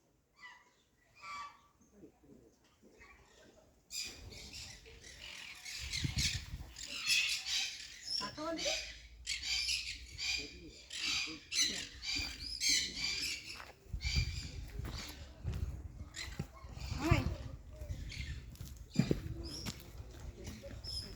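Birds calling at the Sidkeong Tulku bird park in Pelling, loud repeated squawks and honks rising and falling throughout, with people talking nearby.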